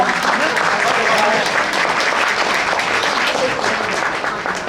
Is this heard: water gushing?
no